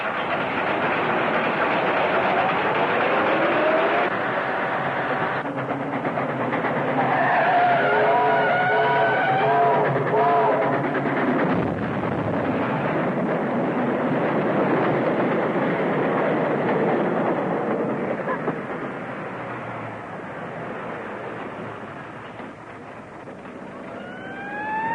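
A train rumbles past a crossing, long and continuous, with screeching wheel tones and metallic squeals rising above the steady roar.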